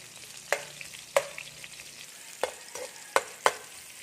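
Garlic and onion frying in a pan for breakfast, a soft sizzle broken by sharp stirring clacks of a utensil against the pan at irregular intervals, with no talk.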